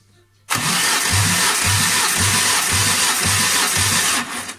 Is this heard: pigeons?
no